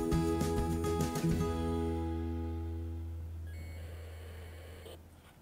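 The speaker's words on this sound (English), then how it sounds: "If you hear that radio noise just at the end, that was the radio beeping." Satellite radio sending amateur-band radio packets during an operational test before launch, giving loud layered electronic beeping tones that sustain and slowly fade over several seconds, with a steady hum beneath.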